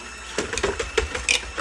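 A whisk beats heavy cream and sugar in a bowl, giving a quick series of light rhythmic clicks and taps that are close and brief.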